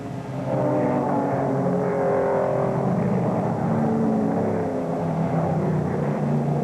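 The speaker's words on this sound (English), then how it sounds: "MacDonald doesn't back off at all, shooting down the challenging carousel turn. And Chuck Castle battles to stay toward the top, his Porsche performing beautifully." Racing cars at the 1963 US Road Racing Championship at Road America, including a Porsche, give a continuous loud engine roar. The drone shifts in pitch as the cars pass.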